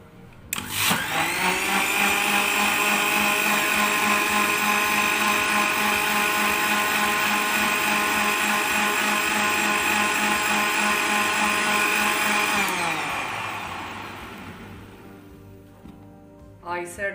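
An electric blender whirs cold coffee with milk in one loud, steady roar for about twelve seconds, then winds down and fades, with a little clatter after it stops.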